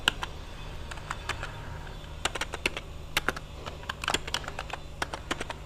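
Rapid, uneven keystrokes on a computer keyboard as code is written, clicks arriving in short irregular bursts over a low steady hum, close and fairly quiet, with no talking.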